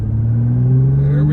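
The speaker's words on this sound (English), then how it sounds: "Obviously, the rock star of the GT-R is this engine and this all-wheel drive system," Nissan GT-R engine revving with a deep, rising rumble and a steady low-pitched drone, loud and close, its pitch climbing slightly over a brief stretch.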